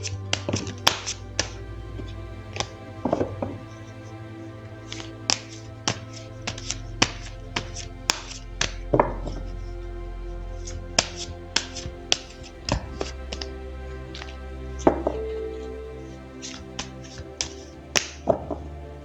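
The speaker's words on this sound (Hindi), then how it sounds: "तो चलिए पहले ज़रा कार्ड्स को शफल कर लेते हैं।" Tarot cards are shuffled in a quiet room, giving soft irregular taps and slaps scattered through the stretch with brief louder riffles now and then.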